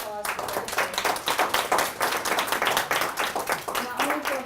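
A crowd claps steadily throughout, a continuous patter of many hands, with a voice briefly audible at the start and end.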